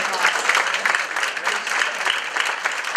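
A roomful of people at a live community awards event gives a dense, even round of applause, close and sustained without a break.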